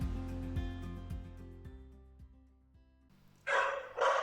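A dog barks twice near the end, short loud bursts after a quieter stretch of music-like tones.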